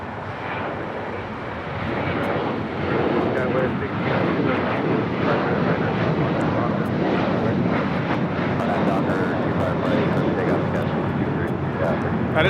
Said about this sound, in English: That is Alaska Airlines 1334 taking off to Belize City on the 737-800